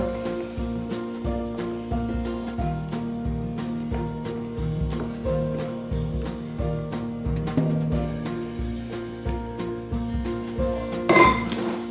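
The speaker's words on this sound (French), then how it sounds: "on va rajouter tout le restant de chantilly et on va mélanger doucement à la spatule" Whipped cream folded gently into crème anglaise with a spatula, steady rhythmic clinks and scrapes against the bowl, with a louder clatter near the end over faint tonal background sound.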